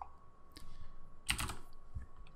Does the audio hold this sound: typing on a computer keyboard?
yes